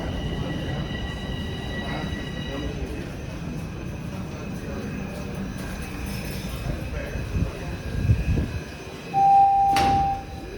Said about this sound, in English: So, yep, the train's here.